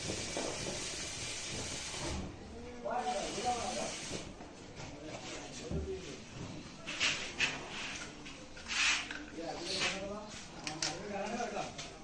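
A coffee machine hisses and sputters as it steams milk into tea, with bursts of gurgling steam rising and falling while a person talks over it.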